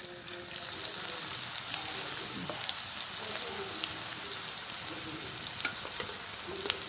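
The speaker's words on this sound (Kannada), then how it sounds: "ಈಗ ನೋಡಿರಿ ಎಣ್ಣೆ ಬಿಸಿ ಆಗೈತಿ ನಾನೀಗ ಇದನ್ನು ಹಾಕ್ತೇನೆ ಇದ್ರೊಳಗೆ ಎಣ್ಣೆ ಒಳಗೆ" Potato French fries dropped into hot oil, a dense continuous bubbling sizzle swelling after the drop, with small pops and crackles scattered across the clip, close and steady.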